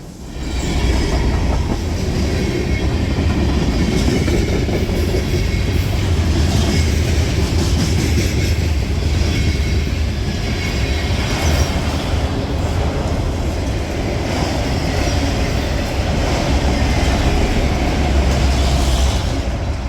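A long freight train with two locomotives rumbles steadily past nearby, with a constant heavy roar, rattling wheels and rhythmic clickety-clack from the cars, no voices.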